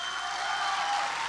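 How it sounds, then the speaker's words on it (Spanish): Theater audience at an awards ceremony applauding the cast, a brief continuous wash of clapping at moderate level with no voices. "Les pido un fuerte aplauso para ellos"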